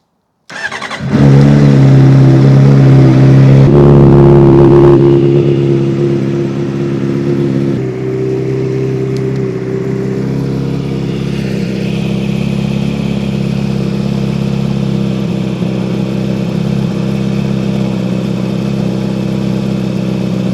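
A Honda CBR600RR motorcycle engine with a freshly restored exhaust starts up, revs briefly, then settles into a steady, loud warm-up idle that runs on without a break.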